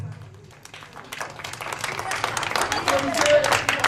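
An audience at a gala show in Sévaré claps, the applause swelling from scattered claps into a fuller round over a few seconds while a voice talks over it.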